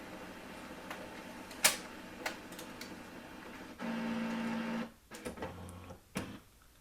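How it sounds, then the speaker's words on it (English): An HP LaserJet MFP M234sdw printer scans pages one after another, with mechanical clicks, a sharp chirp, then a steady motor hum lasting about a second followed by further clunks and ticks, fairly quiet and close. "press scan, and the printer will take one by one each page"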